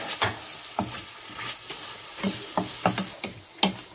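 Bell peppers fry in a pan for a chicken émincé, with a steady sizzle broken by sharp scraping stir strokes at irregular intervals, close and fairly loud, no voices.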